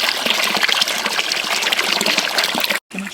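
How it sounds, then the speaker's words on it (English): A babbling brook flows close by outdoors, a steady broadband rush of water running continuously with a brief dropout near the end. "With a babbling brook over there."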